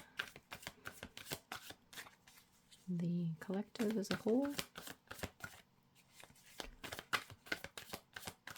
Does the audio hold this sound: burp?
no